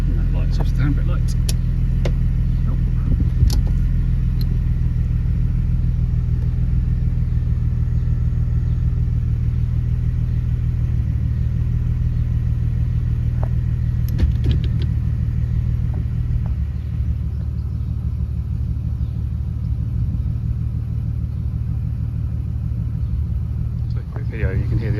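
BMW 328i Sport idling with M3 headers, a full M3 exhaust with cats and a Scorpion back box, a steady, moderately quiet low rumble held throughout, with someone speaking over it.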